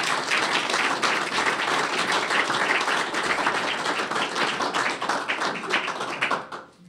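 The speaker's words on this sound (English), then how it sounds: "And you are allowed to applaud if you'd like right here." Audience applause at the Iridium NEXT satellite press conference, a dense, loud, sustained round of clapping from a crowd that continues evenly before dying away quickly at the end.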